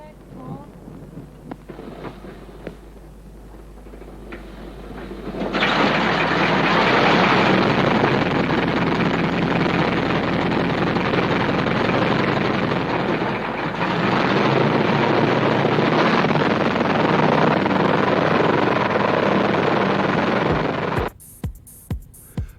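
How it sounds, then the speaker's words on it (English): Vickers Wellington bomber engines start up with a loud, steady roar that swells and holds for about fifteen seconds under faint talk, then cuts off to a few sharp knocks. "Right, starter up. Connect port. Connect port, Pep. Contact port"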